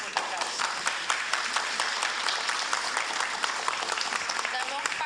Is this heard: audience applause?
yes